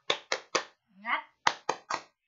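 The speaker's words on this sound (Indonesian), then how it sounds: "Ayo kita tepuk semangat." Three sharp claps, a short shouted word, then three more claps in a quick, lively rhythm.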